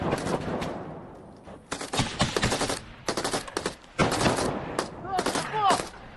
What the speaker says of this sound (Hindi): ये देखिए एक दूसरे पर गोलियां बरसाती हुई दोनों सेना